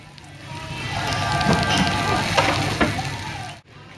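Pepper beef rice in a hot stone pot at a Hong Kong restaurant, a loud, steady crackling sizzle that swells and then cuts off abruptly just before the end.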